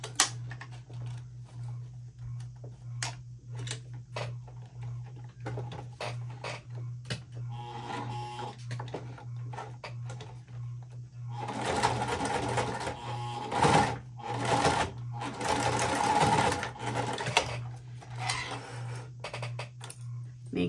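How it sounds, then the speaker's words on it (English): A sewing machine stitches lines on a tote bag, with a steady hum, scattered ticks and clicks, then a louder whirring run of stitching in the second half. "I'm going to sew 2 lines again, one at 1/8 of an inch and one at a quarter or a little bit more."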